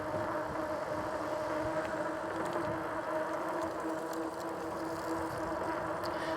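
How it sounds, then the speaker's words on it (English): Big fat e-bike tires ride along a road with a constant droning whine and rumble, steady in loudness throughout, with faint wind noise and no talking. "you can hear the whining in the tires, right? Because these are big fat tires."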